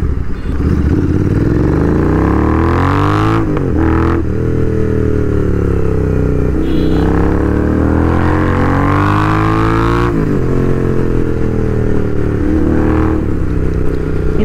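A Royal Enfield GT650 motorcycle with nearly 20,000 km on it, heard while riding: a loud, close engine and exhaust drone that rises and falls steadily as the rider revs and shifts, with no talk.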